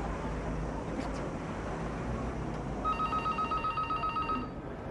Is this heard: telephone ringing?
yes